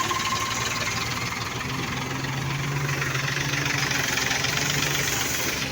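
A tractor engine runs steadily at idle beside a threshing machine, a continuous low rumble with a faint knocking throb, close by and with no voices.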